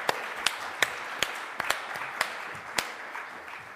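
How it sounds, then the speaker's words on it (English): Audience applause at the FIABCI World Congress forum session for the speakers, loose individual claps over a steady wash of clapping, moderately near, with no talking. "I'd like you all to give a big round of applause to my 4 very different speakers today."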